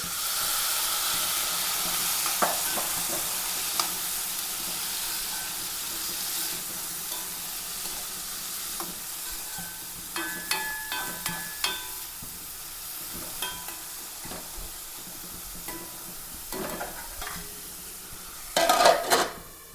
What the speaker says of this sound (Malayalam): ഒരല്പം വെള്ളം ഒഴിച്ചു കൊടുക്കാം